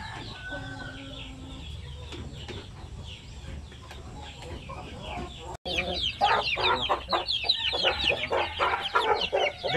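Shamo aseel chickens clucking and squawking in a farm yard, scattered calls softer at first, then a dense burst of loud overlapping clucks close by after a brief break.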